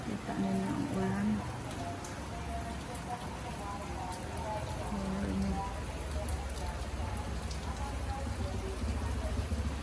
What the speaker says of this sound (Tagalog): kita ninyo ang ulan.